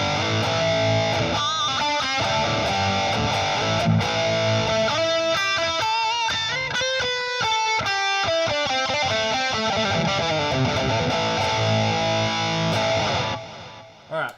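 Electric guitar played through a Line 6 Helix with tube screamer overdrive, two amps, delay and reverb, giving a loud, dense distorted tone with echoing repeats and shifting chords, stopping abruptly at the end.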